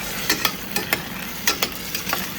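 Canned rajma beans fry in oil in a pan while a spoon stirs them, with several quick scraping strokes in an uneven rhythm over a steady close sizzle.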